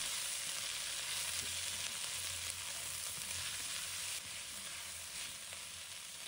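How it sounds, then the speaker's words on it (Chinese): Mustard greens stir-fry over high heat in a wok with oil, giving a steady, close hiss of sizzling with light scraping as they are tossed. No voices are heard. "开大火快速翻炒，让脆嫩的菜梗裹上油香"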